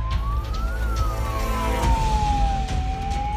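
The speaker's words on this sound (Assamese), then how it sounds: "মাজবাটত আবদ্ধ হৈ ৰ'ল এম্বুলেঞ্চ" A wailing emergency siren on an ambulance stuck in a traffic jam, rising and falling steadily and loud throughout over a low rumble of road traffic, with no talking.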